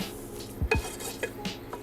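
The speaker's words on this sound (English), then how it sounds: "So we'll give this a little stir." A utensil scrapes and knocks against a pan a few times in quick strokes stirring onions, with a faint sizzle underneath.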